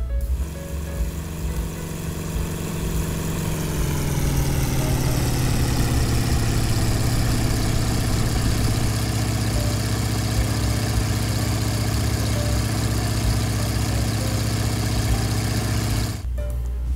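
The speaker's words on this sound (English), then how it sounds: "it's time to disable the brakes, flip on your engine switch, and throttle up" A simulated airplane engine in Microsoft Flight Simulator 2002 throttles up, a steady loud droning hum that rises in pitch over the first seconds and then holds, cutting off abruptly near the end.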